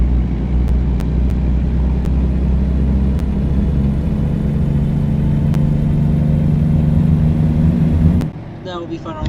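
A heavy truck's engine in American Truck Simulator pulls hard under a heavier load, a loud, steady low drone building as it accelerates, then cutting off abruptly near the end as a voice begins.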